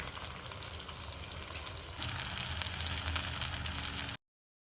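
King fish frying in oil on a tawa, a steady loud sizzle that grows brighter and more intense partway through, with no talk, then cuts off abruptly.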